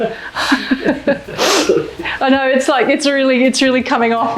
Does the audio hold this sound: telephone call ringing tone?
no